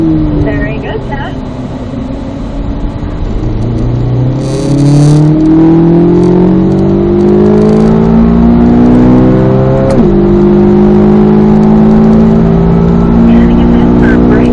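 Car accelerating hard on a race track during a driver coaching session, engine pitch sweeping upward through gear changes with a clear shift near the middle, loud and close, with an instructor's voice talking over it.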